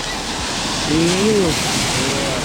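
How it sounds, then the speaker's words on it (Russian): Sea waves break and wash onto Kata beach in Thailand, a steady close surf hiss that swells briefly in the middle. "тут волнишки приходят периодически. Тихо-тихо, а потом раз такая волна."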